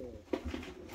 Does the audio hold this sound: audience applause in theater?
no